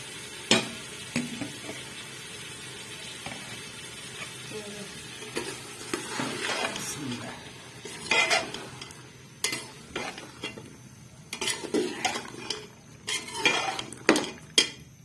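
Carrots, potatoes, peas and fenugreek frying in a handi (cooking pot) for Punjabi-style sabzi, with steady close sizzling broken by repeated scraping stirs and metallic clanks of a spoon against the pot.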